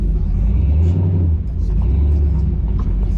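An LS swapped Chevrolet C10 truck accelerating, a loud, close, deep engine rumble that holds steady through the clip, with a voice briefly heard.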